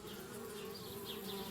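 Bees buzz around a tree house in the adventure game Anna's Quest, a steady, dense droning hum that carries on without pause.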